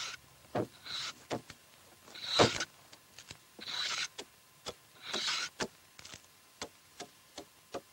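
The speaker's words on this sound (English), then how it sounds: "A dovetail fitting the score tightly is hewn on the end of the joist." Wooden dovetail hewn by hand on the end of a timber joist with traditional tools, heard as scattered sharp chopping knocks and short rasping strokes at irregular intervals, fairly close.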